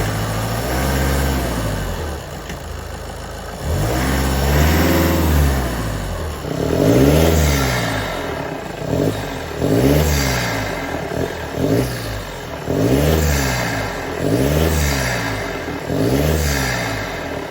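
VW Golf 7 1.6 TDI diesel engine fitted with a RamAir cold air intake, revved repeatedly from idle in a rhythmic series of about eight rising and falling throttle blips, loud and close, no talk.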